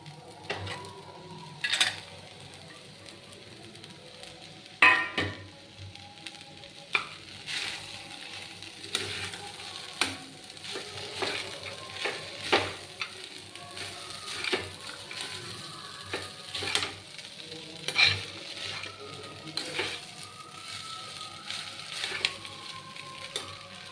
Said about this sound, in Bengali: এবার এই বাদাম ভাজা, আলু ভাজা আর গাজর ভাজাটা সব কড়াতে দিয়ে দেবো